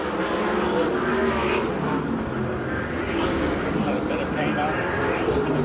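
USAC/CRA sprint cars racing at Perris, their engines droning and rising as they power off a corner, a continuous mid-distance motor roar with an announcer talking over it.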